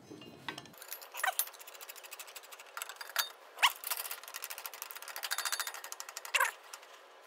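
A metal bolt fitted into a Celestron 8-inch Advanced VX telescope mount, with quiet clicking, scraping and ratcheting metal handling sounds in close, irregular bursts.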